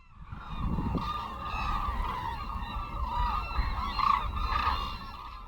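Geese honk loudly and continuously at close range, a dense overlapping chorus of migratory birds seen from a raised bird-watching spot in a national garden, with no talking.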